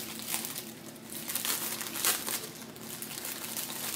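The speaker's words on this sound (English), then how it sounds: "Sorry about the crinkling." Crinkling plastic rustles steadily while acrylic jewelry, including a green necklace, is handled, with a few sharper crackling bursts standing out over about four seconds of close, moderate noise.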